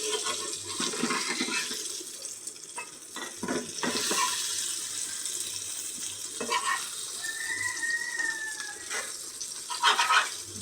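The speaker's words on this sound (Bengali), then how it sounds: "এই তো আমি এখানে ডিমটা ভাজতেছি এখানে একসাথে চারটা ডিম দিয়ে দিচ্ছি" Four eggs frying together in a pan at home, giving a steady broadband hiss and crackle that runs throughout, with a few louder clatters and brief bumps over the sizzle.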